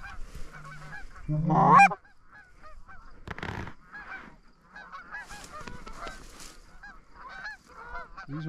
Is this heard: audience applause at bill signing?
no